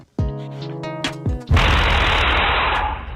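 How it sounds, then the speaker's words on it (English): A rapid burst of gunshots rings out in a residential street at night, followed by a dense, noisy crackle of continued fire that slowly fades. "This is the sound of gunfire that woke residents on Murdoch Avenue."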